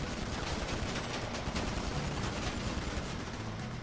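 Dense, continuous gunfire rattles throughout a GTA Online shootout, a steady barrage of overlapping shots at close range with no pauses.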